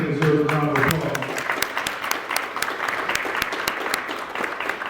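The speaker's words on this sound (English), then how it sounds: "I think that deserves a round of applause." Audience applause at the Dayton Unit NAACP 2025 annual meeting: a dense crowd clapping that swells over a voice at the start, then carries on steadily with sharp individual claps standing out.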